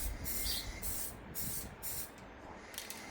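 Spray paint hisses in short bursts onto bars, several separate sprays with brief pauses between, close and fairly quiet.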